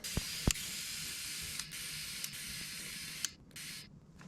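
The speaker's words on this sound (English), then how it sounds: "Don't forget to air it up. We're at 60 psi now, we're going to take it to 90." A trailer tire is inflated with compressed air from 60 to 90 psi, giving a continuous close hiss broken by a few sharp clicks of the chuck and a brief pause near the end.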